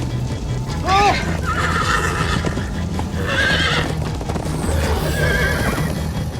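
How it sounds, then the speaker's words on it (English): A horse in Minecraft Story Mode whinnies loudly several times over steady galloping hoofbeats, with a busy game-like background throughout. "Slow down, horse!"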